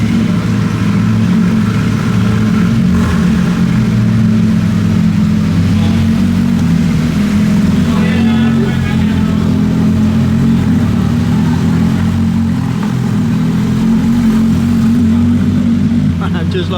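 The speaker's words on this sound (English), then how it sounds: "GT3 RS on the move" A Porsche GT3 RS drives off with other Porsches and Ferraris leaving a cars and coffee meet, a steady loud engine drone with faint revving under crowd noise and nearby talk.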